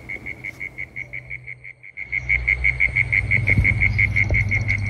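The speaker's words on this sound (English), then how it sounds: "That sound is the cane toad" Cane toads calling at night in Australia: a steady, rapid pulsing trill repeating evenly throughout, fairly close and prominent, with a low rumble of background noise building beneath it partway through.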